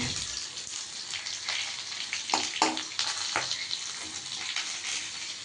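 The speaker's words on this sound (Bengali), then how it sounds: "এখন ভাজা হচ্ছে" Sealed pointed gourds (potol) stuffed with spiced shrimp paste fry in a pan with a continuous hissing sizzle, with several louder crackling spatters in the middle of the clip.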